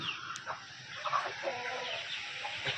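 A farm chicken clucks nearby in a steady run of soft calls against a continuous outdoor background hiss.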